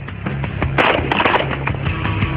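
Gunfire crackles during a car assault shooting drill as two shooters roll out of a moving vehicle: a quick run of sharp, close shots and snaps over a constant rumble.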